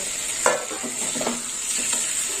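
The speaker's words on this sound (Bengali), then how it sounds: "এবার আমি ভেজে রাখা আলু আর কচুটা দিয়ে দেব দিয়ে কষে নেব" Fried potato and taro pieces being stir-fried into tomato masala, a continuous close sizzle with scraping stir strokes throughout and no talking.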